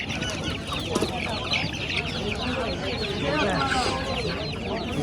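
Young chicks at a poultry market cheep and chirp busily and continuously, with clucking fowl mixed into a crowded, steady din and people talking nearby.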